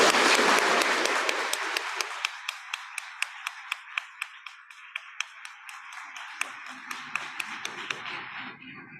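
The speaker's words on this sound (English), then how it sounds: "So let's give everyone a round of applause." Scattered applause at a senior recognition ceremony for a graduating class, a burst of many hands clapping that thins quickly into a few slow, sharp, evenly spaced claps in a quiet hall.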